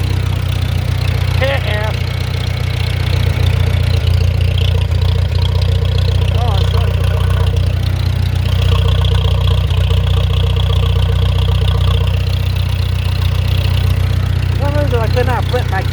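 A vehicle engine, left in gear with no parking brake set, idles steadily with a constant low rumble throughout, while a person briefly speaks over it.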